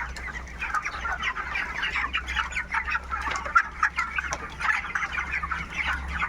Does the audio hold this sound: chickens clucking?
yes